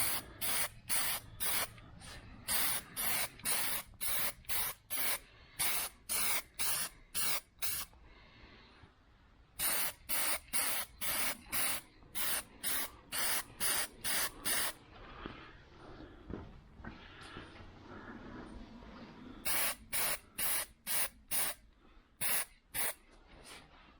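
Aerosol rattle-can spray paint goes onto a Ford Fusion in repeated short hissing bursts, a rhythmic series of close, loud sprays with brief pauses between them.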